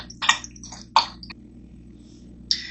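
Water is poured into a saucepan of granulated sugar in a kitchen, making a few brief splashy gushes and clinks with quiet gaps between them, close and fairly soft.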